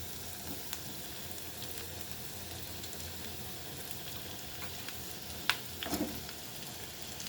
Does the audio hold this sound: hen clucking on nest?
no